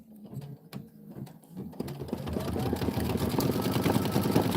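A Kimberbell embroidery machine sews decorative stitching, starting with scattered clicks and then building into a fast, steady mechanical whir with a rapid rhythmic pulse, close and continuous.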